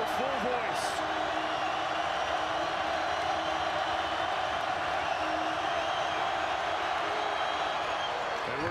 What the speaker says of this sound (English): Kevin Keats urging his crowd into a full voice.